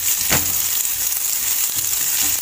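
Onions frying in a pan for a vegetable soup, giving a steady soft sizzle with a brief clatter near the start, close and fairly quiet.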